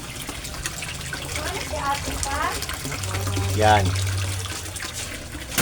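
Water pouring from an aquarium submersible pump, a steady splashing trickle running throughout with a low pump hum, while someone talks over it.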